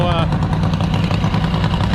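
A pulling tractor's small engine idles steadily with a low, throbbing rumble throughout at a spring tractor pull in Lynden, Washington, and faint voices can be heard behind it.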